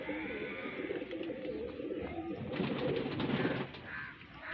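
Highflyer pigeons coo in a loft, steady low murmuring calls running throughout at moderate distance with no talking.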